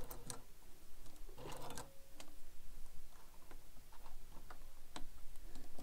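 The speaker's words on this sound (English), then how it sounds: "stitching all the way around the four edges using your favorite top stitch seam allowance" A sewing machine top stitching around the four edges of a fabric carryall bag, a quiet irregular ticking and clicking of needle strokes with brief pauses, no talk.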